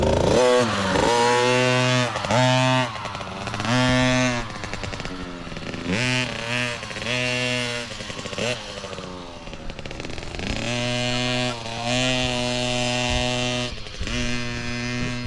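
A motorcycle on a muddy training track revs and surges repeatedly, its engine note climbing and dropping in close, loud bursts throughout, with brief lulls between throttle pulls.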